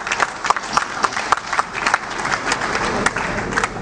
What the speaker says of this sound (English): Can you clap for NIMET, please?